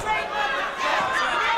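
A boxing crowd at a live pro bout cheers and shouts in a dense, continuous roar, with a commentator talking over it.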